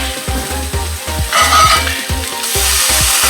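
Meaty mushrooms sizzle in a hot pan while being stirred and flipped, a steady frying hiss with a fast run of regular scraping knocks from the utensil, close and loud with no talking.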